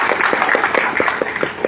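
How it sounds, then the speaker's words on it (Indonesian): Audience applause for APK at a PPPK gathering, a short burst of fairly loud, distinct claps in a loose rhythm with a crowd wash underneath and some voice mixed in. "Tepuk tangan buat APK kita ya."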